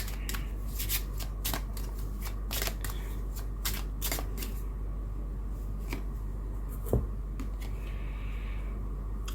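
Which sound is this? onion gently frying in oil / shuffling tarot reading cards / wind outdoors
shuffling tarot reading cards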